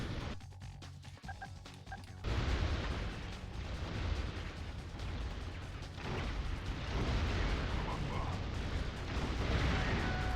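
Gunfire in the video game Metal Arms, a dense continuous clatter of shots and blasts that starts abruptly after a quieter opening and keeps going loud to the end, with no clear voices over it.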